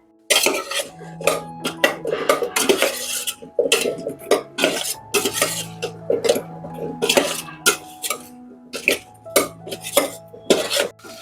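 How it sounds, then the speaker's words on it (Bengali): Potatoes being lightly fried with salt and turmeric powder in a budget multi cooker, with steady clanks and scrapes of a utensil against the pot in an irregular rhythm, close and fairly loud, with no talk. "হালকা ভেজে নেব আলুগুলোকে"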